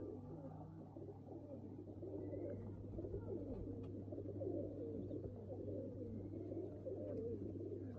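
A pigeon bred for raising young coos softly in low, steady murmuring tones, faint and continuous against a quiet background hum.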